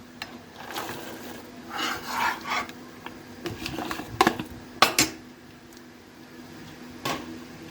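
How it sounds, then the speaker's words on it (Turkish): Dried beans and chickpeas tumble into a cooking pot for ashura, making soft rattling and scraping bursts with a few louder clattering knocks near the end and no voices. "Bir buçuk su bardağı fasulye, bir buçuk su bardağı nohut koydum."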